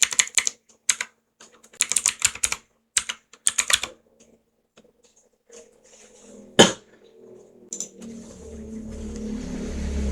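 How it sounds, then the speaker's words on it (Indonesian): Typing on a computer keyboard, several quick bursts of close clicky keystrokes with short pauses, then a single sharp click and a low hum rising toward the end; no talk. "Kita ketik"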